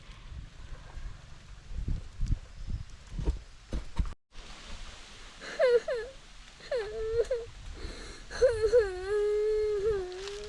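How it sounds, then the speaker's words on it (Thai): A child cries outdoors near the far end of a farm field on a very windy day. Gusty wind noise comes first, then several drawn-out, wavering wails rise and fall close by. "เสียงเด็กร้องไห้"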